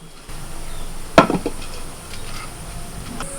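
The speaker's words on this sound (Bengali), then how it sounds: "একটা থালা ঢাকা দিয়ে এটাকে আমি বসিয়ে দিচ্ছি দমে" A metal plate is set over a foil-sealed pot of potato biryani, making a single close metallic clank with a brief rattle settling after it, otherwise quiet with no talk.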